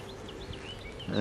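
Honeybees buzz around an open hive during a frame inspection, a thin, close, wavering drone lasting about a second, with a faint louder rustle at the end.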